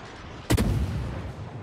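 Warship guns firing in the naval combat game World of Warships: one sharp, loud salvo crack that trails off into a long rolling rumble.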